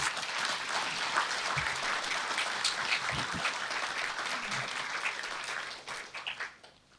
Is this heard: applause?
yes